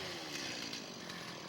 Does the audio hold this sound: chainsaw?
yes